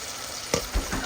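Chicken frying in hot oil for biryani gives a steady, close hiss, broken by a brief clatter of stirring partway through. No one speaks.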